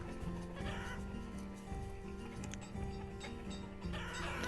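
Chickens cluck and squawk in the farming video game Banished, a busy fowl pen with overlapping calls and steady tonal game ambience, moderately loud with no talking.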